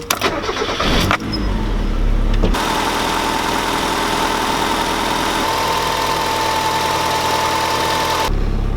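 A car engine cranks and catches, then settles into a steady, loud idle that runs on for several seconds before cutting off, just after a Vortech FMU fuel regulator has been fitted.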